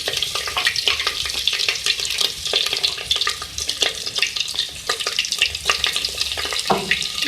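Ginger-garlic paste frying in hot oil, a dense continuous crackling sizzle with scattered sharp pops throughout, fairly loud and close.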